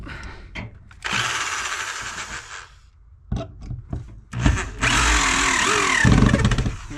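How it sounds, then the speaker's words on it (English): A cordless 1/2-inch Milwaukee hammer drill whirs loudly in several bursts, revving up and down with short pauses, close by. "This is a 1/2-inch Milwaukee hammer drill."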